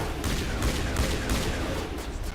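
Rapid gunfire in the sci-fi shooter Mass Effect, with dense bursts of shots rattling in quick succession and a loud, continuous barrage of pops and thuds.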